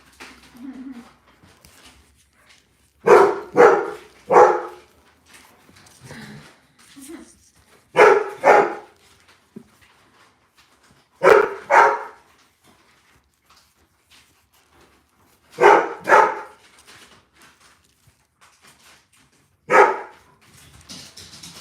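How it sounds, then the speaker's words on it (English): Several dogs bark in short bursts outside, muffled and at a moderate distance, with gaps of quiet between barks and occasional faint whimpering. "The dogs are outside"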